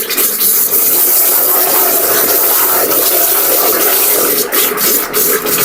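Espresso coffee machine heating water, giving a loud, steady hissing rush with faint bubbling throughout, a few brief sharper bursts near the end.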